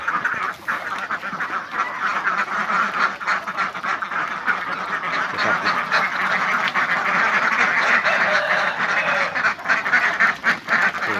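Ducks quack continuously in a busy flock, overlapping nasal calls filling the air, close by and fairly loud, with no talk.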